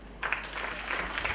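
Classroom audience applause during a Hindi competitive exam preparation session, a brief burst of clapping that swells quickly and holds steady at moderate loudness.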